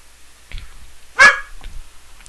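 A dog gives a single sharp bark at moderate distance, framed by a few faint softer sounds in an otherwise quiet room, with no speech.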